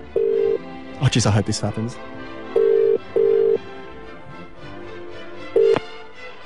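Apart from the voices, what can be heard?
telephone number being dialed and line ringing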